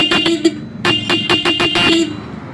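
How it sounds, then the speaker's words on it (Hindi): A repaired vehicle horn sounds in a series of loud, close blasts, several short honks followed by longer sustained tones, with a brief pause between groups. "इस हॉर्न की आवाज़ ठीक है।"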